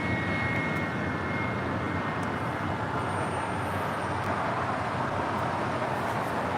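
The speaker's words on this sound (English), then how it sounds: "Delta Airlines Flight 631 heading to Mexico City on the 757-200" A Delta Air Lines Boeing 757-200 jet airliner at LAX gives off a continuous, fairly loud broadband engine roar with a thin high whine, steady throughout without pauses.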